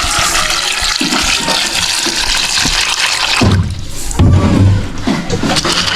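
Water pours and gushes into a container of snails, a continuous loud rush that surges again near the end, with no talking.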